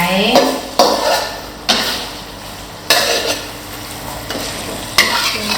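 Southern Thai pork stir-fried in a pan, loud close scraping strokes of a spatula recurring every second or so over a continuous hissing sizzle, with occasional metallic clinks.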